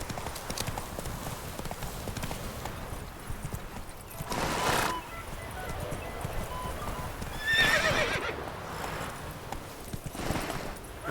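Horse in The Witcher 3 video game, rhythmic clip-clop of hooves with whinnies and snorts, steady and close with no talk.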